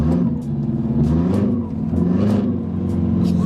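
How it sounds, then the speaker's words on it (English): A turbocharged 8th-generation Honda Civic engine revs up and falls back in quick throttle blips during a downshift, heard loud and close from the cabin, with no talking. "Oh, look at that downshift."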